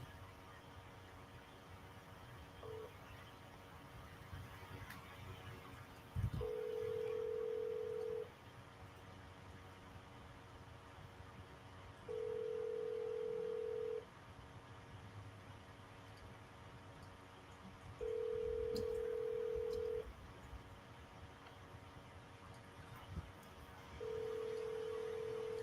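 An outgoing phone call rings through the handset: four long, steady ringback tones at regular intervals over a faint background hiss, with no talking.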